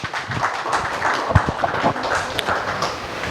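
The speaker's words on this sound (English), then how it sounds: "A huge round of applause for everybody for sir." Audience applause at the inaugural session of an engineering faculty development programme, a dense, steady patter of many hands clapping in a hall, fairly loud and continuous, with a few sharper claps standing out.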